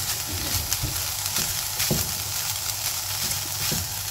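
Minced meat keema fries steadily with green coriander and green chili, a dense continuous sizzle with faint stirring scrapes throughout, close and alone.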